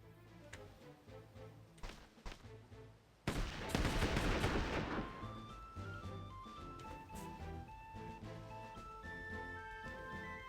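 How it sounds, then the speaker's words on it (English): A sudden loud volley of gunfire erupts during a naval battle in the Sid Meier's Pirates! video game, rising over game music and fading into a sustained rumble before the music carries on alone. "Alright, yeah, fire!"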